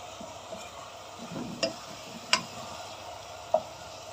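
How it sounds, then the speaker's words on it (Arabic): Nuts being stirred in a generous amount of oil in a pan for Basmati rice with raisins and nuts, a soft steady sizzle with a few sharp clinks of the spoon against the pan. "هنفضل نديهم تقليبة كده لحد ما يتشوحوا معانا او يتحمروا"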